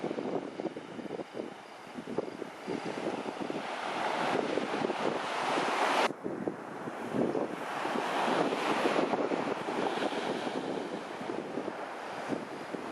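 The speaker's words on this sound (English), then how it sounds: "You might hear some wind sound in the background. It's rather exposed just here." Strong wind buffets the microphone on an exposed stretch of rough coast near Mandraki Beach on Skiathos, with surf roaring steadily underneath and one brief dip in the gusting partway through.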